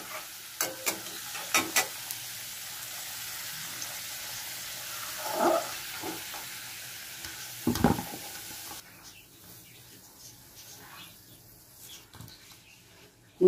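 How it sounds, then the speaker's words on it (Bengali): Potatoes frying in oil in a wok, with a soft sizzle under scattered stirring clinks and scrapes of the spatula against the pan, close and fairly quiet, fading near the end. "দিয়ে এগুলো একটু ভেজে নেব। আমার আলুগুলো ভাজা হয়ে গেছে।"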